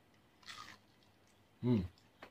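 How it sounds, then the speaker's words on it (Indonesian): Someone bites into a freshly fried, still-warm jolobio snack, producing a soft rustle and then one sharp, close crunch, with a faint click afterward in an otherwise quiet kitchen. "Dengar gak bunyinya? Masih kriuk."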